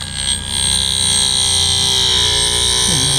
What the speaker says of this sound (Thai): ได้ยินเสียงการเจียแล้วนะครับ